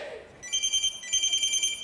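An electronic telephone ringer trills in two bursts of rapid, bright warbling rings separated by a short pause, loud and close, starting after a brief moment of near silence.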